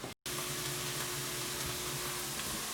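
Beef and onions brown in a hot pan for a dehydrated backpacker stroganoff, giving a close, continuous sizzle with a brief cut near the start.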